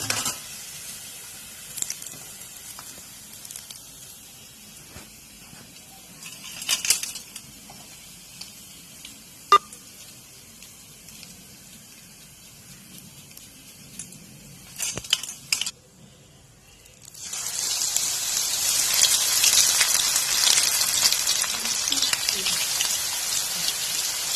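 Banana flower pakoda deep-frying in oil, a hissing, crackling sizzle that starts loud and steady partway through after quieter clinks of utensils and pans.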